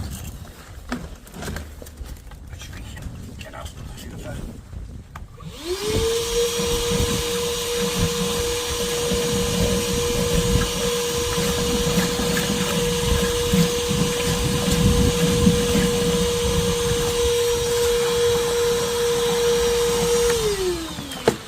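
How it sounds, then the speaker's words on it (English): A vacuum cleaner starts up with a loud steady whine and rushing suction as it pulls gravel out of a blocked drain, with rattling debris through the hose and no talk. "let's get the hoover in, and there's a little bit of gravel in the bottom"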